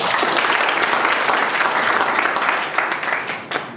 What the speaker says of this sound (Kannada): ಅರ್ಥ ಆಗಿರೋರು ಚಪ್ಪಾಳೆ ಹೊಡೆಯಿರಿ.